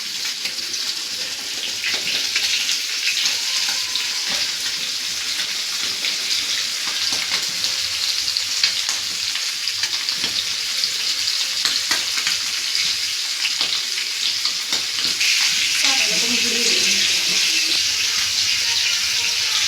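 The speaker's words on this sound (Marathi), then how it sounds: "बांगडे तर 2 फ्राय होतात आहे इथे." Bangda mackerel frying in a pan, with a loud, continuous close-up sizzle and crackle of hot oil throughout, steady and dense with occasional faint clinks.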